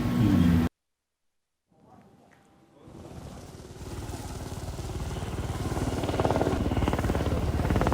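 A patrol helicopter flies over forest and land fires in Kalimantan, its rotor chop and engine drone swelling from faint to loud and steady after a brief silent gap.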